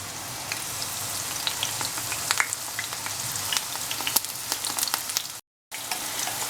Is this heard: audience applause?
no